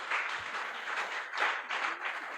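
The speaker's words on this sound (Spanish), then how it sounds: "Denle un fuerte aplauso a Dios." Congregation applauding during a church sermon, a steady broadband wash of many hands clapping at moderate distance, swelling slightly twice, with no voices over it.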